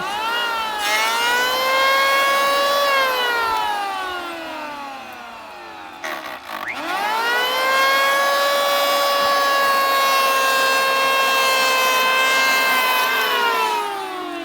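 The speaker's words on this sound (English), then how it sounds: "Just beveling the edges" A power tool whines loudly while beveling the edges of wood, its pitch sliding up and down through two long passes with a brief dip in between.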